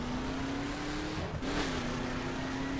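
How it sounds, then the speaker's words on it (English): A classic American muscle car engine in a racing video game drones steadily with a sustained tone that dips briefly mid-clip and then climbs again, loud and close, with no voices. "they do have some of the best engine noises you'll find in a car"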